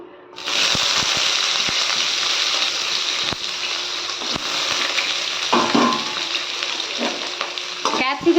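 Capsicum dropped into hot ghee bursts into a loud, broad sizzle that holds steady, with stirring scrapes near the end, close and without voices.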